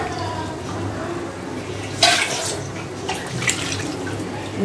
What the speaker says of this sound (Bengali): যাই হোক হাতটাও ধুয়ে নিলাম